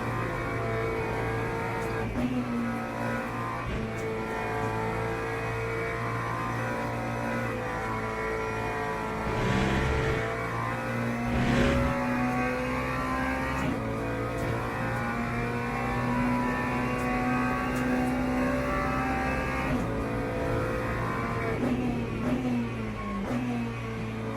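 A race car in the video game Le Mans Ultimate drones steadily with a sustained engine tone, rising briefly in pitch as it accelerates, loud and continuous throughout with no talk.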